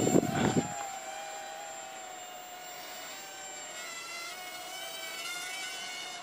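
A Hubsan H107D mini drone starting up and lifting off: a brief clatter gives way to a steady high-pitched whine from its small rotors, holding close and level throughout.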